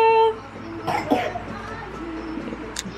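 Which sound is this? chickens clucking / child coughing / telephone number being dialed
child coughing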